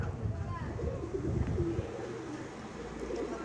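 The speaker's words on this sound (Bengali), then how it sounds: "এই হলো রাজুদার একটা পায়রা, মাদি পায়রা এটা।" Female Madrasi pigeon cooing softly, low and close, while people talk nearby.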